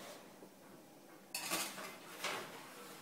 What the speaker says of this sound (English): So these are actually ready to go in the oven now.